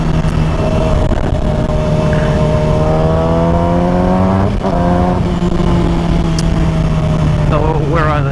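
A small motorcycle engine revs hard in first gear, producing a loud, close, droning whine that climbs steadily in pitch with a brief dip midway.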